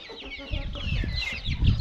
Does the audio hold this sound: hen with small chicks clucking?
yes